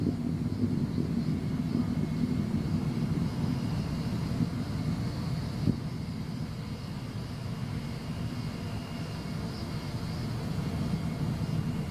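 Space Shuttle Discovery on its STS-114 launch ascent, heard as a steady, distant rumbling roar that holds evenly throughout with no talk.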